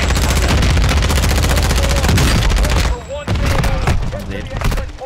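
Gunfire in Call of Duty DMZ rattles in rapid automatic bursts, loud and close, with dense sustained firing that breaks off briefly before further shots resume, with some voice chatter beneath.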